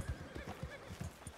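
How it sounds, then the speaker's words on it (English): Horse in the Red Dead Redemption 2 video game, with close, repeated hoof clip-clops in an uneven rhythm and a whinny partway through, loud and alone without talk. "Let me get off this stupid horse."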